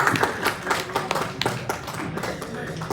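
A small audience at a farmers' knowledge quiz claps in sharp, uneven bursts, with distinct individual claps up close rather than a dense roar, tapering off toward the end.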